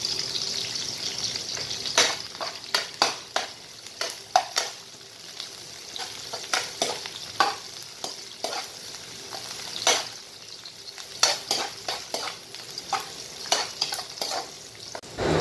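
Onions sauté in a pan for a budget pancit canton meal, sizzling steadily while a utensil stirs and scrapes against the pan in irregular bursts. The sound is close, with no one talking.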